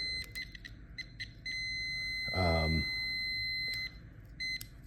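A multimeter beeps in a steady continuous tone for a couple of seconds as it contacts a Jeep JK fuel injector's pins, amid faint background hum, with a brief louder buzz in the middle.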